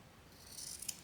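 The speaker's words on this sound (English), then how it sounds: "you're basically just trimming everything so that we don't have all that extra stuff in the seam allowance." Scissors snipping through fabric to trim a seam allowance on a sewing project, a faint close crisp cut or two over a quiet background.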